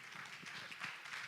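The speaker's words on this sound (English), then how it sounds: "Clap, clap, clap, clap." An audience at a creative summit on the digital economy claps in a fairly quiet, continuous patter of many hands, with no voices over it.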